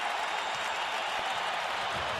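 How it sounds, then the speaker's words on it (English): A basketball arena crowd during a Colorado State vs. Nevada NCAA game roars and cheers, a dense, steady wash of noise from many voices, loud throughout with no distinct speech. "The crowd comes alive."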